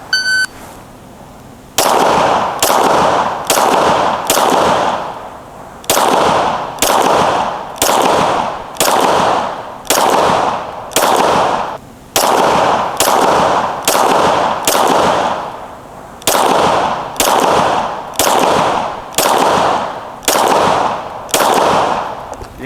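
SIG Sauer P365 pistol fired at 40 yards during a timed drill: a long string of loud, sharp shots at steady pace with brief pauses between groups, after an opening timer beep, no talk.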